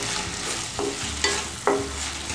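Capsicum is stirred into soya chilli in a hot pan, a continuous loud sizzle with a few sharp scraping strokes of the spoon, close up and without talk.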